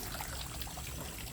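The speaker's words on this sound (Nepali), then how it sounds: "यसरी यत्तिकै खुल्लै जान्छ हेर यहाँ कति पानी जान्छ हेर्दै" Water runs freely from an open public tap that cannot be shut off, a short, fairly soft steady pour and trickle with no voices.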